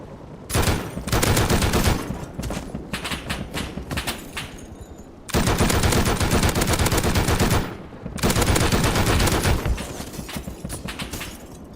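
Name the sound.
gunfire with high velocity bullets in the video game Rust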